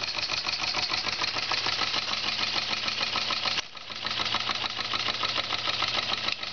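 A very large model steam engine driving a generator runs steadily, its boiler at about 11 psi, giving a quick, even mechanical chuffing and knocking rhythm that is continuous apart from one brief dip.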